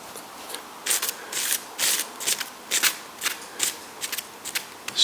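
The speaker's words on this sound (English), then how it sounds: "So I'm just going to more circular polishing / burnishing this time" Circular polishing and burnishing of a clay slab's second layer, heard as soft, close rubbing strokes in repeated bursts, dry and scratchy, with no talk.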